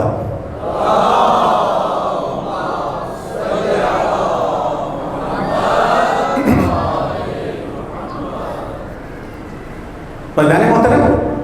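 A mosque congregation at a Muharram majlis chants salawat together in response, loud massed voices rising and falling in waves, with a sharp burst of shouting near the end.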